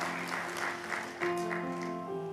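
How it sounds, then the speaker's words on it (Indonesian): Congregation clapping in a church service, a moderate, steady patter of applause beneath sustained keyboard chords that shift partway through, the clapping fairly even and not very loud. "Tepuk tangan buat Yesus, pasti miliar."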